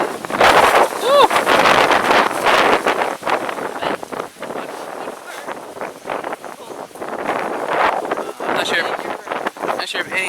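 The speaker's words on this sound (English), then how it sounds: "the wind is so strong" Strong wind from Hurricane Matthew buffets the microphone outdoors at a resort, a loud continuous rumbling roar with gusty surges throughout, with voices talking underneath.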